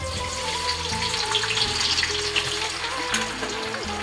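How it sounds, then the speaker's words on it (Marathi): Long-sliced onions, ten to twelve of them, fry for a two-kilogram dum biryani in a steady close hiss of hot oil with faint stirring underneath, continuous and without voices. "आता कांदा फ्राय करून घेऊया"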